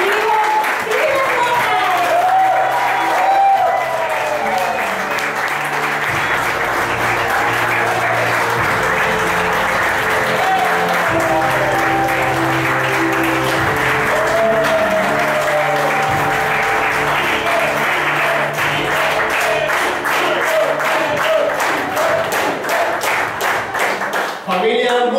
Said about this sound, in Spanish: recibámoslo con fuertes, pero fuertes aplausos